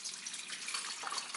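Water is poured into a car's plastic windshield washer fluid tank, a steady, close, hissing trickle and splash that runs continuously without talk.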